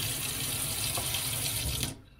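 Cold water gushes steadily from a tap into a sink, a loud, close, continuous hiss for about two seconds before it is abruptly shut off.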